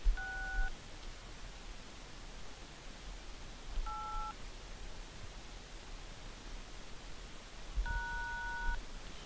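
Three short bursts of telephone keypad dialing tones, numbers dialed through a tongue-operated assistive control system, ring out clearly over a steady hiss of background noise, spaced a few seconds apart.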